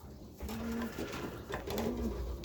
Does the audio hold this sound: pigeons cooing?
yes